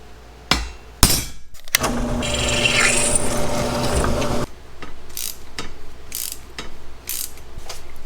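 A hammer knocks the sharpened tip of a screw to mark a spot for drilling during rally Corvair work: a few sharp close strikes, a stretch of rasping rubbing, then lighter taps.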